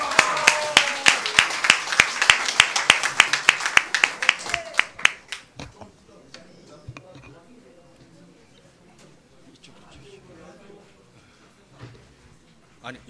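Audience at a debate forum on flying the national flag at Gwanghwamun Square gives sharp, rhythmic unison claps welcoming a speaker, loud and close for about five seconds, then fading to scattered claps and quiet room shuffling.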